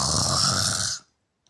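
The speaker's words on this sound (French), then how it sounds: "Il arrive à ronfler alors qu'il dort pas" An awake person snores once up close: a single rough, loud snore lasting about a second, then sudden silence.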